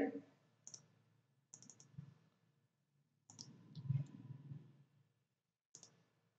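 Sharp computer mouse clicks while working in Autodesk Inventor 2020 CAD software, a handful of isolated clicks spaced apart, close and quiet, over a soft low room murmur with faint background sound between them.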